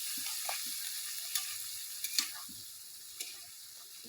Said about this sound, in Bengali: দেখুন বন্ধুরা আলু দিয়ে ভাজা হচ্ছে